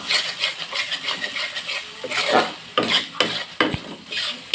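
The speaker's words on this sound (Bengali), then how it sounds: "মশলাটা ভালো করে কষিয়ে নেবো, তার জন্য আমি গরম জলও বসিয়েছি।" Spice masala being stirred and fried in a pan for Bengali chicken curry, a close, continuous sizzle broken by repeated scraping strokes of a spoon, with louder scrapes toward the end and no talking.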